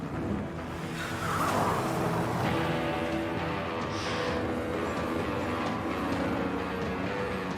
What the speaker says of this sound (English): They speed down a dirt road.